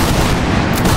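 A massed musket volley erupts in a Napoleonic-era line battle game with Italian, Prussian, Russian and Bavarian regiments, one loud dense burst of overlapping shots filling the whole moment without talk.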